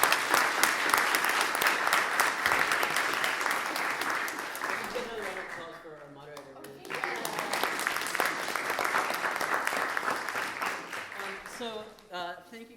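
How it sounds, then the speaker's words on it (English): An audience applauds a panel at a guest speaker event on rights to information, with steady clapping that fades and dips around the middle before surging again, then trails off into a few voices at the end. "let's give the panel a wonderful applause"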